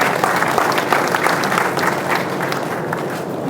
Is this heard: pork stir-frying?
no